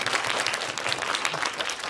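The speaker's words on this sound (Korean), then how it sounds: "박수 한번 치고 갈까요?" An audience at a film Q&A screening in a cinema hall claps warmly, a loud, dense burst of many hands that fills the room for a moment.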